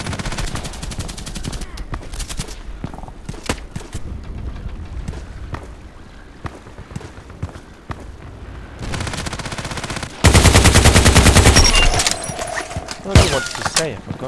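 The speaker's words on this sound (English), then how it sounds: "that's the power of my machine gun, 45 shots." A machine gun fires in the shooter game Contract Wars, with rapid bursts of automatic gunfire, scattered single shots and a long, loud sustained volley near the end.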